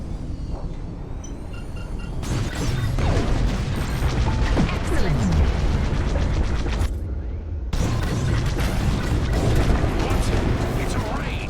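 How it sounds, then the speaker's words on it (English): Bombs dropping and exploding in the Star Wars: Squadrons space combat game: a dense, continuous roar of blasts, booms and crashes, loud and sustained with a brief dip partway, with game voices talking over it. "On my mark, it's bombs away."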